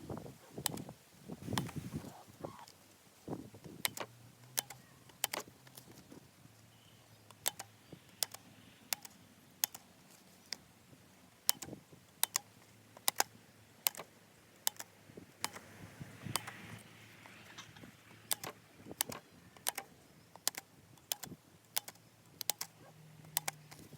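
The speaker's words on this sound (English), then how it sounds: "Okay, so I'm just going to punch all the way around my gingerbread man." A hand hole punch works its way around a paper gingerbread man cutout, giving a long, steady series of sharp, quiet clicks at close range, one every second or so, alone in a quiet room.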